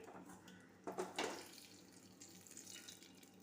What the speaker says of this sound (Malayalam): നമുക്കിനി ഇതിനെ എരിശ്ശേരിയിലേക്ക് ഒഴിക്കാം.